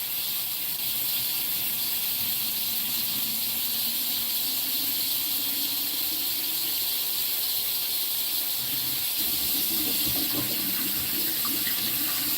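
A tap runs steadily, its broadband wash of water rinsing the soap out of a guinea pig's water bottle, with a continuous even flow and a slight shift in tone near the end as the stream hits the bottle.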